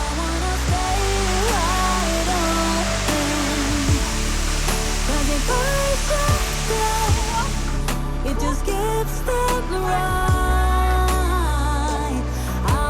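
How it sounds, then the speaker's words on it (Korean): Water pours steadily at Moonlight Falls in the Pinnacle Land arboretum in Asan, a broad continuous rushing hiss with faint instrumental music playing underneath throughout. "여기는 달빛 폭포입니다."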